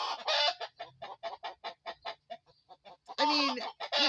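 Backyard chickens clucking in a rapid, agitated series of short calls, fairly close and loud, with a louder burst of squawking toward the end and no talk.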